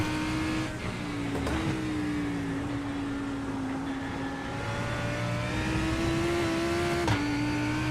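A GT3 race car engine in the iRacing sim holds a steady, loud drone throughout, with slight pitch rises and dips as the revs shift, near and continuous with no talk.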